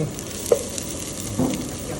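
Chicken stir-frying in a pan, with a steady sizzle and a couple of scraping stirs from a utensil, heard up close.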